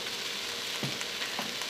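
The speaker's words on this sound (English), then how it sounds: "my onion, my garlic, my rice, all cooking up nicely" Onion, garlic and rice cooking together in a pot for a greens soup, giving a steady close sizzle with a few soft stirring scrapes and no voices.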